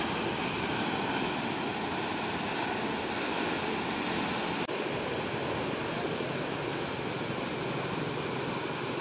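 Sea waves wash steadily onto a litter-strewn beach in Padang, a continuous loud roar of surf with no pause, close and unbroken throughout.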